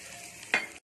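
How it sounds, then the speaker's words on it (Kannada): Mustard seeds and asafoetida hit hot oil for a tempering, giving a brief soft hiss with a sharper crackle burst near the end, close and quiet, with no talking. "ಈಗ ಕ್ವಿಕ್ಕಾಗಿ ಒಂದು ಒಗ್ಗರಣೆ ಕೊಟ್ಬಿಡೋಣ"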